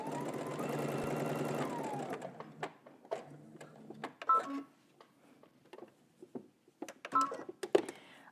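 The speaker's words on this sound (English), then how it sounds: "So let's go ahead to the sewing machine and tack our pocket down." Sewing machine tacking down a pants pocket, a steady whirring stitch run for about two seconds, then short intermittent clicks and taps of handling.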